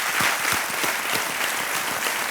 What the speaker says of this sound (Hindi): तालियां बज जाएं इनके